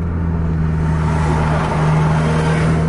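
A Scania bus accelerates hard to overtake, its engine giving a loud, steady low drone that holds and rises slightly, heard up close from on board with no speech.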